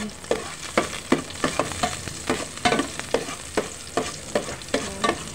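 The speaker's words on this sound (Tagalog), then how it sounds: "igisa ko na to na mga ingredients ng papaitan" Garlic sautéing in a pan as the first ingredient for beef papaitan, a bitter beef offal stew, with steady oily sizzling broken by repeated scraping stirs of a utensil against the pan, close and loud.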